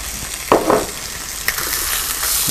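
Chicken sizzles in butter in a hot pan with a steady close frying hiss, punctuated by a couple of stirring scrapes and louder bursts.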